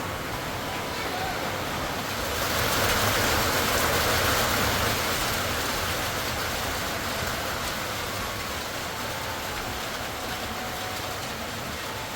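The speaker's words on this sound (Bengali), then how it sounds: "আবার বৃষ্টি বাড়তেছে" Light rain falls in a steady, broad hiss that swells for a few seconds early on and then eases back to a soft, even patter.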